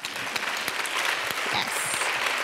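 An audience at a college talk at Eugene Lang College claps for a singer, a full, even wash of many hands at close range that holds steady throughout.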